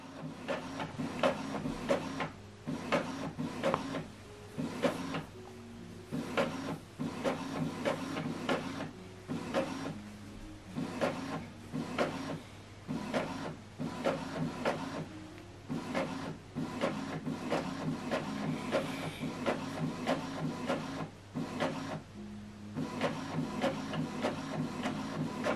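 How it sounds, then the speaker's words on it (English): An Epson inkjet printer prints a color, two-sided document: steady mechanical whirring and rhythmic print-head passes with brief pauses, continuous and close, with no talk. "So now it's printing this document."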